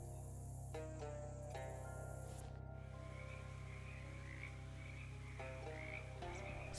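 Frogs croaking in the game Shadows Over Loathing, repeated throaty croaks and chirps over a steady low musical drone, close and clear with no voice.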